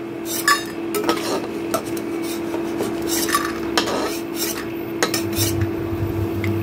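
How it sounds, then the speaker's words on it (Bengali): A metal spoon scrapes and clinks against a pan and bowl as fried lentil dumplings are lifted out of mustard oil, with short repeated taps over a steady kitchen hum and no talking. "এখন আমি বড়িগুলোকে তুলে একটা আলাদা পাত্রে রেখে দেব।"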